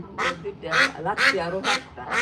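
Ducks brought to a market for sale quack up close, about five loud, rhythmic nasal calls in quick succession.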